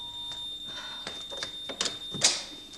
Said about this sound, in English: Do you know your smoke alarm's going off?